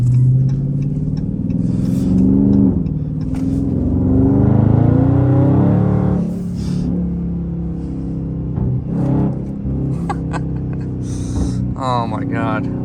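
A loud, close Dodge Hellcat or Scat Pack V8 pulls hard, its rising growl building for several seconds before easing off, with people talking over and around the engine noise.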